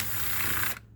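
Torx 27 screws being loosened on a Ford 6R80 automatic transmission valve body, a steady close ratcheting whir lasting most of a second before cutting off abruptly.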